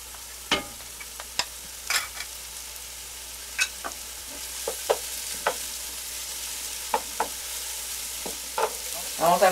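Garlic sizzles in a pan over moderate heat while a spoon stirs it, a soft steady fry broken by scattered scraping and clinking.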